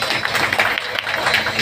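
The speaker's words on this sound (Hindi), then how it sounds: "जब हम तालियों का स्वागत करें" An audience at an indoor gathering honouring a national president applauds, with uneven clapping and some voices mixed into the dense, fairly loud sound.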